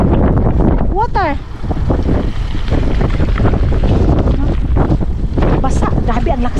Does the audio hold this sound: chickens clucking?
no